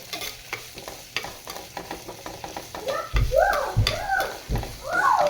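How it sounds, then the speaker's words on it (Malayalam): Onions sauté in oil for a mushroom theeyal, a steady sizzle with rhythmic stirring scrapes, joined midway by a few low thumps and a squeaky, chirping tone close by. "ഇളക്കി കൊടുക്കാം നല്ലതുപോലെ ഒന്ന് നല്ലതുപോലെ എണ്ണയിൽ കിടന്ന് വഴന്ന് വരണം"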